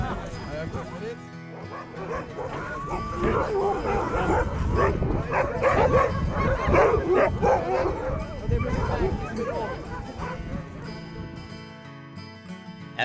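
Sled dogs bark, yip and whimper in a noisy chorus at a winter kennel, sustained and close, with a person talking over them.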